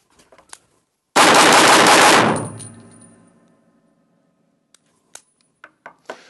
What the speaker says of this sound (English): We'll try to shoot these targets first in the seated position.